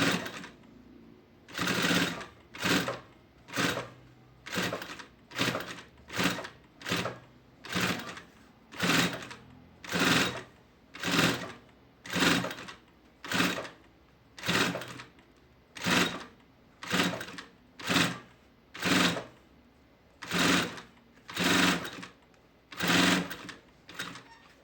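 A sewing machine stitches piping onto a lunchbox panel in repeated short bursts of rapid mechanical whirring, each run lasting about half a second to a second, separated by brief pauses.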